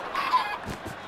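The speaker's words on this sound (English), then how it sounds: "Killer chicken!" Clucking from a chicken in a lucky block race video game, a few short calls bunched together at moderate loudness with no talk over them.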